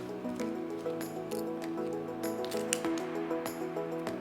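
A knife cutting an onion in half on a cutting board, with a series of crisp, squishy slicing crunches and clicks from the blade meeting the board, set against a steady background hum.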